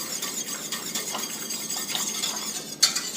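A whisk beats flour into a tomato sauce for a Czech beef dish, producing quick, rhythmic scraping and clinking against the pot at close range, ending with one sharper metallic tap.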